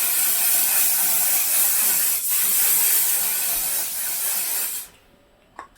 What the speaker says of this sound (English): One size Until Dawn setting spray.